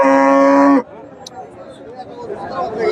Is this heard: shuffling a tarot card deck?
no